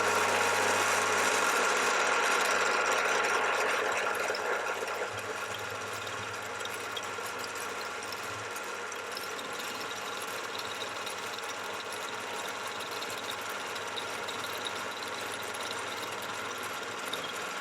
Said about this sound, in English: machine this here across and then just slacken the vise, turn it a little bit, then machine the next part until it forms a radius.